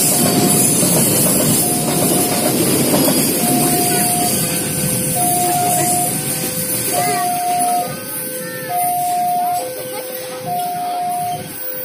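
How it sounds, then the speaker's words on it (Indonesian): A Pertamina train rolls past a railway crossing at night in Lemahputro, Sidoarjo, a loud close rumble with clattering wheels while the crossing bell dings in a steady alternating two-tone pattern, and a voice speaks briefly over it. "Ternyata kereta api Pertamina."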